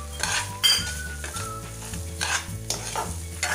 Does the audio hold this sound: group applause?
no